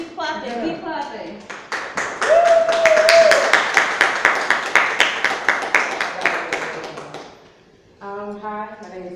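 An audience at a poetry reading claps for a poet in steady rhythmic applause that swells and then fades, with a voice talking over the start and resuming after the clapping dies down.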